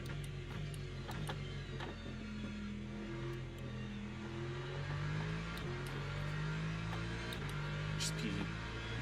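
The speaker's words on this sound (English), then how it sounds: "so I just need to short shift." Race car engine in the Le Mans Ultimate sim racing game, a steady droning whine with pitch stepping as gears shift early, running continuously beneath a speaking voice.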